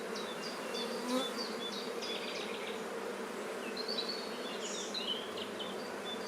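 Honey bees buzz steadily and close around an open hive during a brood-frame inspection for mite infestation, a dense continuous drone with individual bees flying past now and then.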